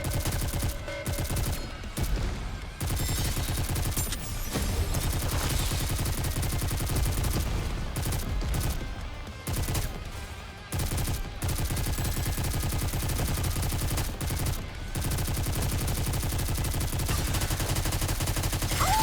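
Sustained automatic gunfire from a NIKKE battle, dense rattling bursts filling nearly the whole stretch with only brief gaps, loud and continuous under a layer of game music and effects.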